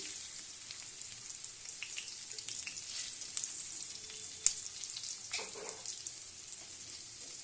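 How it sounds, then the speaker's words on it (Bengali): Potatoes frying in oil until browned for a prawn and potato curry, a soft, continuous sizzle with scattered pops and a few stirring scrapes, no voices. "বেশ লাল করে আলুগুলো ভেজে নেব।"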